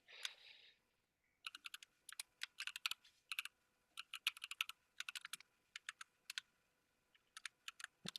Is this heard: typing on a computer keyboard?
yes